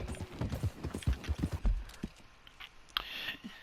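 Horse hooves clip-clop in Red Dead Redemption 2, a quick run of close, uneven thuds for over a second that thins to a few scattered knocks and light rattles, with no talk.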